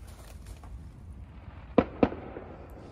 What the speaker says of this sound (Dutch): nou, nog vuurwerk.